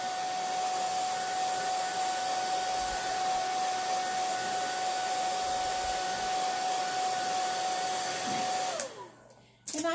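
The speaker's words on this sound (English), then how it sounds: "I'm just going to give it a little dry with my blow dryer." Blow dryer from Walmart drying chalk paste on a stencil, a steady close whooshing hum with a constant high whine that runs loudly for about nine seconds before being switched off abruptly near the end.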